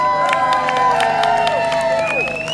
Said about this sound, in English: Can we have a round of applause for this gentleman,